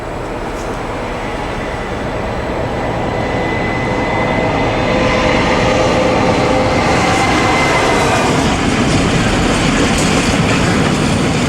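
British diesel locomotive hauling an ore train roars past, a broad rumbling engine drone building steadily louder and staying loud and close throughout.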